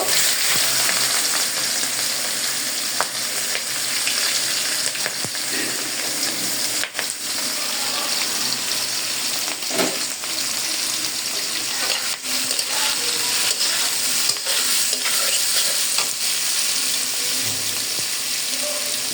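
Chopped onions fry in hot oil in a wok, producing a steady, loud sizzle that runs the whole time, with occasional clicks and scrapes from stirring.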